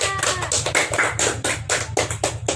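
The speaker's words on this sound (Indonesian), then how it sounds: "tepuk tangan untuk Tiara" A primary school class claps for a pupil, producing a quick run of close, sharp hand claps and taps for about two seconds in a room with a low hum underneath.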